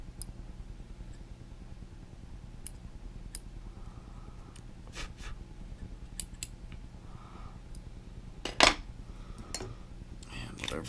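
Small scissors snip trimming material on a pink sow bug imitation fly at a tying bench, a few light clicks and cuts scattered over a quiet background, with one sharper snip standing out.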